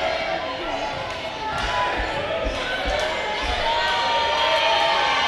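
Crowd noise in a gym during a college basketball game between Chattanooga State Tigers and Columbia State Chargers, with cheering after a missed free throw and several basketball bounces, under a commentator's voice.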